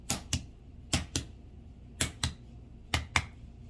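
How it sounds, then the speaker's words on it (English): Hard-boiled egg shell being tapped to crack it open, four pairs of sharp, close clicks in an even rhythm, quick double knocks with short pauses between them and no voices. "So let's go ahead and crack this open."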